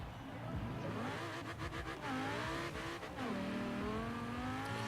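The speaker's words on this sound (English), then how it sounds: "I can hear like a blow-off noise." A turbocharged Lamborghini with a DCT gearbox in Forza Horizon 4 revs and shifts, engine tones sweeping up and down, with a short fluttering turbo blow-off burst in the middle over continuous engine noise.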